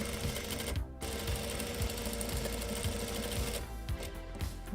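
Sewing machine stitching webbing straps onto a reversible tote bag, a steady loud mechanical whir with rapid needle pulses running almost continuously, a brief pause near the start.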